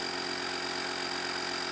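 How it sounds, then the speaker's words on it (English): A smart portable tire inflator air pump runs at full power, giving off a steady, loud mechanical drone with a thin high whine on top, unbroken and alone for under two seconds. "let's switch the power on, but this time I'll start pumping the air without any presets"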